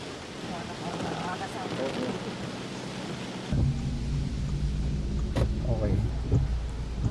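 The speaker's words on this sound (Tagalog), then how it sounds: "Connie, sa ulan pa rin gumising ang mga taga Baguio City at ilang lugar dito sa Benguet na hanggang ngayon ay inuulan pa rin." Heavy rain pours steadily in Baguio City, Benguet, with rumbles of thunder rolling through a dense hiss of rainfall; the downpour continues throughout, growing louder partway with a deeper low rumble.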